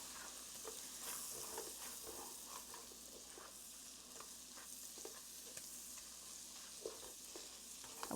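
Garlic and butter melt in a hot pan with a faint, steady hiss and light crackles, quiet and even throughout with no voices.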